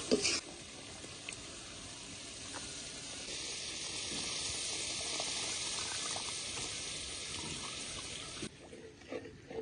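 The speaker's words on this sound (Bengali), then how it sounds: "দেখুন ঝোলটা এখনো ফুটছে" Prawn curry gravy made with coconut milk simmers with a soft, steady bubbling hiss, framed by brief clatters at the start and end.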